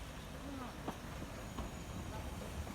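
Continuous rumbling and hiss of a preserved diesel multiple unit train running on the West Somerset Railway, with faint clicks and rattles over the steady drone.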